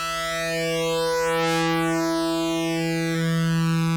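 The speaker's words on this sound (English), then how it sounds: "If I change the pitch here of the second oscillator, it's going to make different sounds" Korg Prologue synthesizer with its second oscillator sweeping in pitch against a steady tone, producing a sustained, loud electronic drone whose upper harmonics glide down then up in a smooth arc over four seconds, with no voices.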